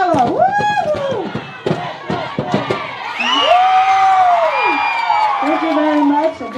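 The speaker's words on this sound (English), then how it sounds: "A big hand of applause for Rose City Youth, everybody" Lively crowd cheering, whooping and clapping for the Rose City Youth performers at a cultural event, loud and close with shouts rising and falling, while a host speaks over the noise.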